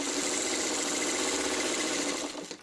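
A sewing machine stitches small quilt block pieces together for a square-in-a-square block in a steady, continuous mechanical whir. The sound is close and even, easing off near the end.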